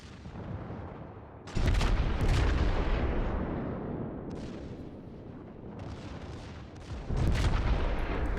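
Battleship secondary guns on the Izumo and Yamato fire in the naval video game World of Warships, sending out a series of heavy booming volleys with rumbling decays, a few seconds apart, with no talk.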